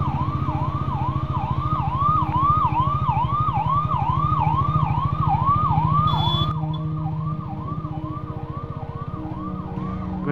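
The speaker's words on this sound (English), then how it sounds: "Is there an ambulance coming?" A wailing ambulance siren cycles steadily up and down, loud and close, with a rumbling engine underneath throughout.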